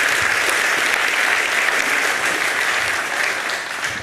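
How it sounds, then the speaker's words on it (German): Loud, dense applause from a keynote audience at an IT conference, close and continuous before easing slightly at the end, with no talking over it. "2. Sieger, trotzdem großer Applaus."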